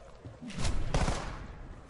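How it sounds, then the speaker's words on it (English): Burst fire from a gun in a PC shooter game, a short cluster of sharp shots near the middle, loud and close against a steady background. "Oh, that's the burst fire."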